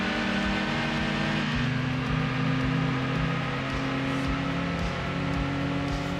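Engines of lightweight kei race cars such as a Suzuki Cappuccino and a Mazda AZ-1 drone steadily in a Gran Turismo 2 race, with a sustained buzzing hum and a pitch shift partway through.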